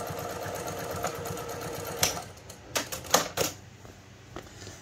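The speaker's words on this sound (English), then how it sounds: "but I'll do this stitching." A sewing machine stitches a cloth pad with a steady mechanical whir that stops, followed by a few sharp clicks and knocks.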